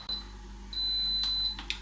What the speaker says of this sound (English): listen for when it beeps that it's gone to pressure